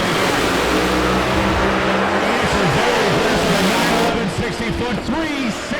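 A pro-charged Pro Mod drag car roars down the strip on a quick pass, its engine a loud, sustained howl with rising and falling pitch sweeps, dropping slightly in the final second as it passes.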